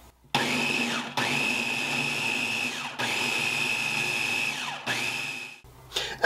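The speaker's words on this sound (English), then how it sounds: "you're just going to want to pulse this enough just so it looks like coarse breadcrumbs" A kitchen blender pulses dry ingredients for strawberry shortcake toward a coarse breadcrumb texture, in three loud whirring bursts separated by brief stops, then a short final burst and a clatter at the end.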